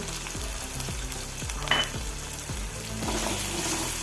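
Cumin and small chopped potato pieces fry in a pan for sabudana upma, giving a steady close sizzle broken by regular scraping stir strokes, with no talking.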